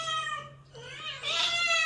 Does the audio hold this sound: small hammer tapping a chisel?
no